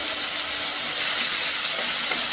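Onion, tomato, garlic and turmeric sautéing in a pan for a field bean tamarind kuzhambu, a loud, continuous close sizzle with a faint watery hiss throughout.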